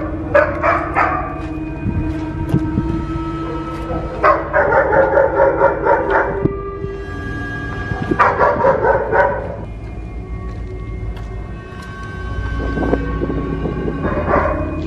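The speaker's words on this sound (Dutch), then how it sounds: "in een van deze huisjes zat die hond net die we beneden hoorden" A dog barks in bursts of rapid, sharp barks, pausing between volleys, with a low steady rumble underneath and no talking.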